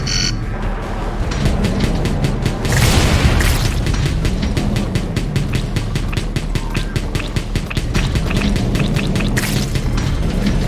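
Missile explosions in Wall World burst in a dense, continuous barrage, loud booms and rapid crackling pops layered over a steady rumble of game noise, with no voices.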